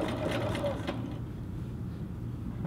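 A sewing machine stitches the hem of a little girl's skirt, a steady low mechanical hum with rapid needle rhythm, close and continuous, while a faint voice talks briefly at the start.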